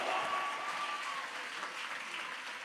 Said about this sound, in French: bah Jésus, un applaudissement.